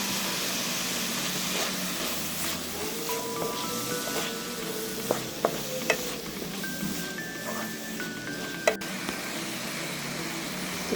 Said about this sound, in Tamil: நம்ம தக்காளியில் உப்பு போட்டு வதக்குறதுனால தக்காளிலேருந்து நிறைய ஜூஸ் வெளியாகும்.